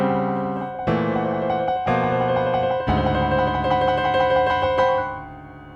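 Sustained piano chords, superimposed stacks built from the same spacing, ring out alone, with a few fresh attacks every second or so before the last one decays.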